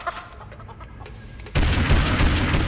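Chickens cluck in the Family Guy video game, a dense clucking burst that starts abruptly and stays loud over game noise and sound effects.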